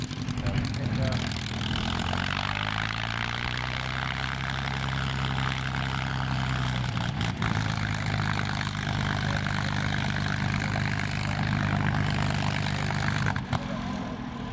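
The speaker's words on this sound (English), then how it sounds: "Let's listen to this wonderful Rolls-Royce Merlin V12 engine." A Rolls-Royce Merlin V12 piston engine on a P-51 aircraft at EAA AirVenture 2021 runs at a steady, deep drone, close and loud, holding an even throb throughout.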